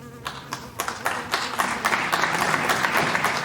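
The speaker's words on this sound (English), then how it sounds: "Give yourself a big clap." Clapping on a children's counting video, a run of rhythmic claps, close and fairly loud, with a few hands overlapping.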